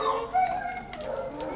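Dogs at an animal shelter yip and whimper in short, close, fairly loud bursts, with a person's voice talking faintly in the background.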